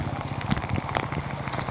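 Heavy, persistent rain pattering on surfaces close by, with a dense irregular patter and some gusty noise, no voices heard.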